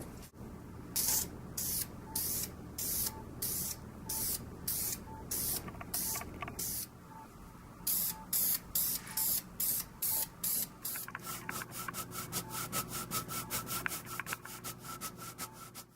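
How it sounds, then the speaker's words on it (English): Lacquer sprayed onto a walnut jewelry box with a walnut crotch top, heard as evenly spaced hissing bursts that quicken into short rapid puffs near the end. "Now finally, I'm just going to lacquer everything up."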